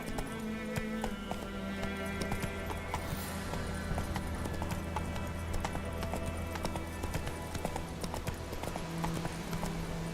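Roach the horse gallops in The Witcher 3, a steady, quick clip-clop of hooves running continuously at close range with faint game ambience beneath.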